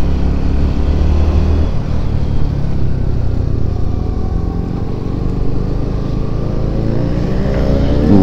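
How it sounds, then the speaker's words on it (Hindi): A Bajaj Pulsar NS200 motorcycle roars through a wheelie, its engine loud and close with a steady droning rev that rises and shifts in pitch over several seconds, no voices heard. "ओ भाई विली मार रहा है यहाँ पे"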